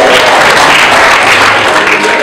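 Wedding guests at Daniel and Vanessa's wedding clap loudly and steadily throughout, a dense, close wash of applause from many hands with no pauses.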